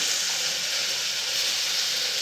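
Chicken pieces hit a pan of sautéed onions for a homestyle curd chicken, giving a steady, loud hiss and sizzle that carries on evenly with no voices.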